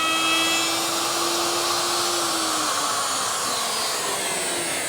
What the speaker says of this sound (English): I'll make those with my router.